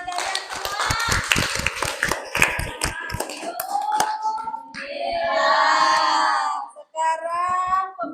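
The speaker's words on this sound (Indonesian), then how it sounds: "Tepuk tangan buat kalian semua." A group of students claps their hands in quick, uneven bursts, mixed with excited shouting and cheering voices that grow louder toward the end.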